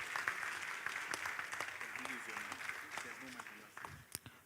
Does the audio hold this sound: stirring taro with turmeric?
no